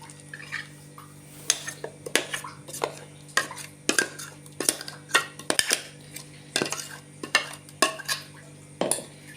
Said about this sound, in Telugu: ఇప్పుడు ఈ పిండిని ఒక గిన్నెలోకి వేసుకోవాలి